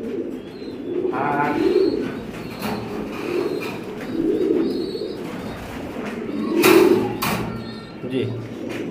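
Racing pigeons on a farm coo in low repeated throaty phrases, close by, while people talk over them throughout.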